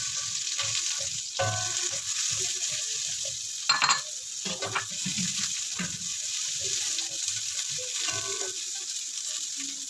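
Fishballs with garlic and onion fry in a pan, giving a close, steady sizzle broken by stirring clatter and a brief louder burst of spatter.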